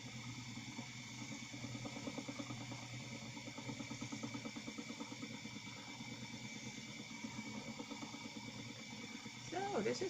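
A spinning wheel runs at high speed with a steady, faint whirring and rhythmic mechanical ticking throughout, closing with a slightly louder bump at the end.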